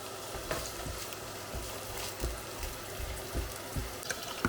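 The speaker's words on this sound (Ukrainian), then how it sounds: "олія розігрілась, підсмажуємо цибулю до золотистого кольору" Soft, continuous sizzling and crackling of onion frying in hot oil, with occasional small pops and no talking.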